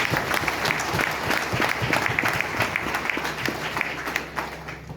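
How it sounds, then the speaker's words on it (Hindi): A crowd at a business talk event claps heartily, a steady, moderately loud patter of many hands with sharper individual claps standing out, and no talk over it. "एक बार अपनों के लिए जोरदार तालियां"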